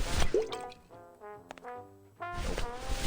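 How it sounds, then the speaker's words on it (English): Liquid pours into a drink in the video game Grim Fandango, a short series of wet drips and gurgles with rising tonal burbles, fairly loud and close, bracketed by brief bursts of game noise. "Now we need to fill this drink for Gladius. Hookah water with some liquid rage"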